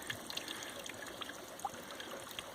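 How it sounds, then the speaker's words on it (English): Water bubbles and trickles up out of the ground in a freshly dug homestead well, a quiet, close, continuous babble with scattered small pops and drips. "these little tubes of water, you sort of see it bubbling right out of the ground there"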